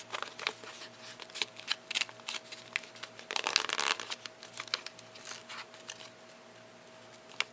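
Origami paper is folded and creased by hand at close range, a run of soft crinkling, tapping and sliding strokes with a louder burst of rustling in the middle, quiet and unaccompanied by speech.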